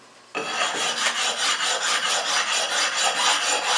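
An oil stone rubs back and forth over a crown wheel from a rusty Salisbury axle, making a close, steady rhythmic rasping scrape that starts abruptly and continues without talk.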